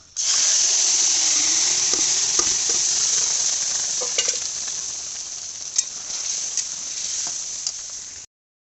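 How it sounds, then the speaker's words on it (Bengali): Boiled lentil dal with fried ginger hits a hot pan for a vegetarian bitter dal, sizzling and bubbling loudly and steadily with occasional stirring scrapes before cutting off abruptly. "এই যে আমার ডালটা ফুটছে"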